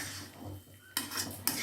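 A spoon scrapes and knocks against a pot while thick ragout filling for pastel is stirred, with a few sharp metallic clinks over a soft, low background.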